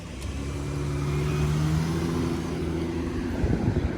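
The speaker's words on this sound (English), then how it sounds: "We'll allow this car to go by." A car engine passes close by on a South Philadelphia street near Jackson Street, a steady mid-pitched hum swelling and holding for several seconds under street ambience, with no talk.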